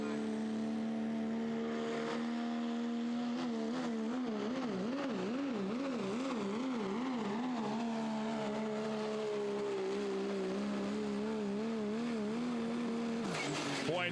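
A pro stock diesel pulling truck roars down the track at a Terre Haute, Indiana pulling event, its loud engine tone wavering and bouncing through violent hops before dropping off near the end, with no talk heard.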